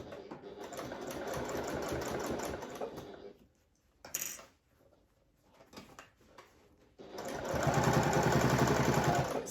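A domestic sewing machine runs a seam, whirring steadily and close for several seconds, pausing briefly with a few clicks and fabric handling, then starting up again at full speed.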